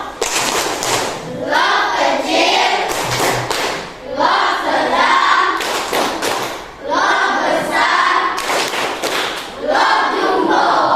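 Children in a classroom perform the Tepuk loh rhythmic clapping game, with sharp bursts of group clapping and chanting voices in repeated patterned phrases, loud and close.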